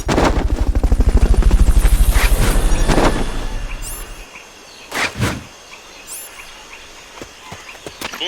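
A helicopter in the PSP game Metal Gear Solid Peace Walker starts with a loud, fast rotor chop up close, then fades out and leaves a few sharp bursts and clanks.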